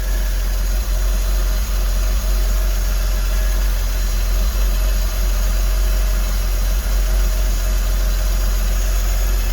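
A 2003 Porsche Boxster engine idles steadily after sitting unused for over four years, a continuous low rumble with a faint mechanical hum and no voices, holding at an even level throughout.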